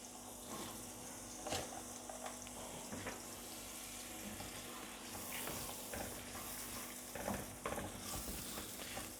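Onions fry in melted butter in a pan for dhaba-style chana dal fry, with a steady sizzle and occasional stirring scrapes throughout and no speech.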